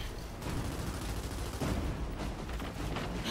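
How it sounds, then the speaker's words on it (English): Rapid gunfire from the video game Gears 5, a quiet, continuous rattle of automatic shots mixed with booming combat noise. "What is he shooting at?"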